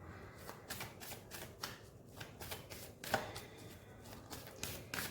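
Tarot cards being shuffled by hand during a card reading, a soft papery riffling in repeated bursts, fairly close and quiet, with no talking over it.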